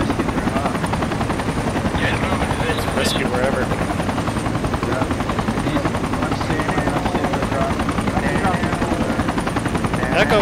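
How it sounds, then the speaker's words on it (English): Military helicopter rotor from the Project Reality combat game, a loud, steady rapid thudding that runs throughout without letup, with brief bursts of other noise and occasional talk over it. "Get in the chopper, get in the chopper."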